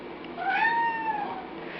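A house cat gives a single drawn-out meow, clear and close, rising then falling in pitch, with no talking around it.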